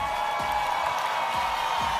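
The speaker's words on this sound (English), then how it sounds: "keep your hands clapping for every single one of them" A stage crowd at a 2012 5LINX opportunity presentation keeps up steady clapping with a few scattered whoops and cheers, a dense continuous wash of hands heard at moderate distance with no talking.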